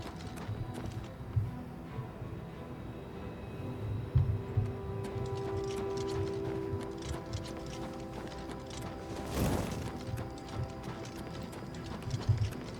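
In the video game The Elder Scrolls IV: Oblivion Remastered, horse hooves clip-clop at a steady trot throughout, with a brief burst of rushing noise partway through and a faint hum beneath.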